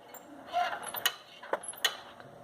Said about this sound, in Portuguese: a merda da moto não para de ringir